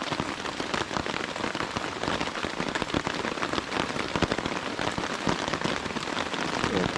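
Steady, dense rain falls on a shelter at night during a storm. The drumming is constant and fairly close, with sharper drop impacts scattered through it and no voices.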